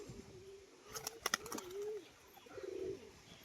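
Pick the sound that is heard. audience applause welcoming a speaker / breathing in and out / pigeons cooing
pigeons cooing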